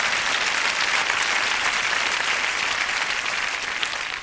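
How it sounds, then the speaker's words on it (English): Steady, dense applause from an audience at a motivational talk, loud and continuous throughout with no voices on top. "Give me a round of applause right quick, all right?"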